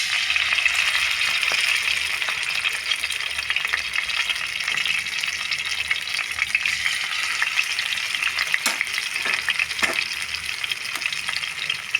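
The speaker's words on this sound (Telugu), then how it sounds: "ఇదిగోండి ఉన్ని చేపలు కూడా వేసేస్తాను." Pieces of fish sizzle steadily in hot oil for the whole stretch, a dense, even frying hiss close by with a few faint clicks and stirs, no voices.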